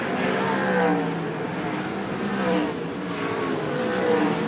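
Race cars roar continuously around a speedway track during a wingless sprint car feature, a dense steady engine drone with rising and falling swells as the field passes, loud and close.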